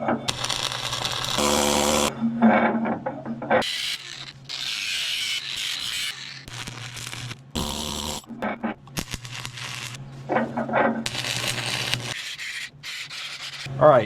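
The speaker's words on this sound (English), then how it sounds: "I'm going to keep doing one tack at a time. I'm putting really heavy tacks" Heavy tack welds go onto a new thumb being fitted to a large Case 170B excavator: repeated bursts of harsh crackling buzz, each lasting a second or several, broken by short pauses over a low electrical hum.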